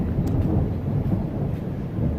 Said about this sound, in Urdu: یہ آوازیں جو سنائی دے رہی ہیں، گرج چمک